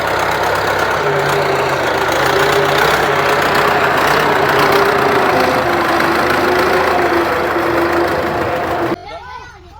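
A tractor engine rumbles loudly and steadily at close range while ploughing a field for sowing sorghum, then cuts off abruptly near the end.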